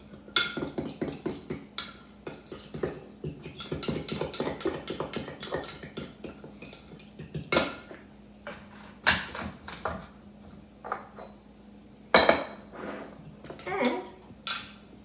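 Sloppy joe ingredients mixed together in a bowl, with clattering scrapes and knocks of a utensil against the dish, loud and close in irregular bursts.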